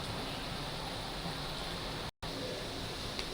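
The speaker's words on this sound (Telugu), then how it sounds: "వాటర్ మరుగుతున్నాయండి" Water boils in a pan on the stove for upma, giving a steady, soft, close rushing hiss that briefly cuts out partway through.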